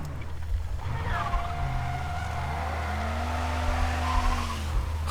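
A sports car in the Mafia video game skids with drawn-out rising and falling tire squeals over a low engine drone, two long screeches overlapping across several seconds, close and fairly loud.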